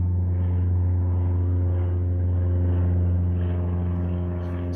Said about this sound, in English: Airplane going overhead, so ignore that.